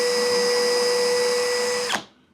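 A cheap brushless drill driver runs at speed setting 2, a steady high motor whine held for about two seconds before it cuts off and spins down. The sound is close and loud, with no talking.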